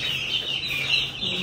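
Six young chicks chirping close by, continuous high thin peeping layered over a faint low background, with no talk.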